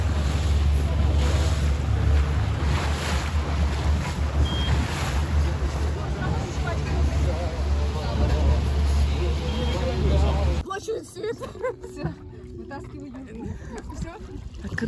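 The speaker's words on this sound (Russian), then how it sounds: "Выплываем из порта." A small pleasure boat motors out of the port at Adler onto the open Black Sea, with steady loud engine and wind rumble plus water noise for about ten seconds before it drops to a quieter, choppier stretch.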